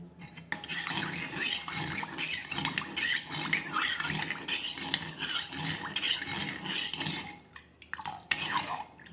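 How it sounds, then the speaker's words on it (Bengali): Yogurt whisked with water for dahi bhalla gives continuous scraping, sloshing strokes against a bowl in a steady, close rhythm, with occasional clinks and a brief pause near the end. "দইটাকে ফেটে নিতে হবে।"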